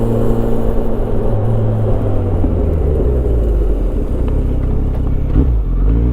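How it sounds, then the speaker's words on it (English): A Kawasaki Concours 1400 motorcycle braking hard from 50 while breaking in new brake rotors, heard as a loud, steady engine and road rumble with wind noise that eases slightly toward the end. "the final step 3 is aggressive braking from 50"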